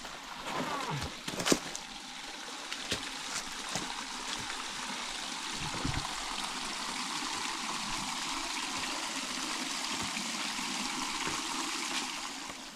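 Mountain stream of spring water, the Doodh Ganga near Almora in Uttarakhand, flows steadily in a broad, continuous rushing wash close by, with a few faint knocks scattered through it.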